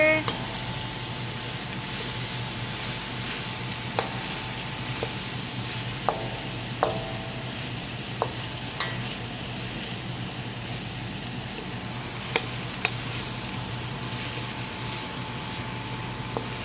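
Red pepper stir-fried in a wok with sesame and ginger for chow mein, a steady oily sizzle running throughout with occasional sharp clicks of a utensil against the pan.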